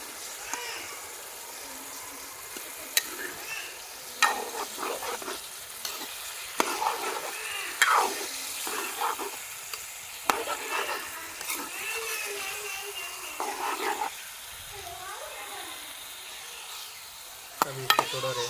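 Chicken liver (kaleji) and tomatoes frying in ghee, a continuous close sizzle under intermittent scraping and stirring clicks of a spoon against the pan, with no talking.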